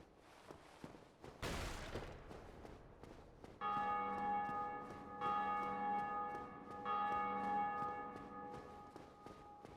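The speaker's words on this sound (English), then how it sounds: "Somebody's ringing those bells." Church bells ring in Dark Souls Remastered, a sustained metallic peal struck three times in succession after a sharp thump, each toll swelling and ringing on, moderately loud and clear with no talking.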